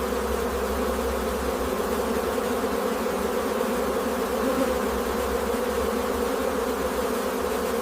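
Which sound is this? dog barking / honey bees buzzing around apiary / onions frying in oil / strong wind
honey bees buzzing around apiary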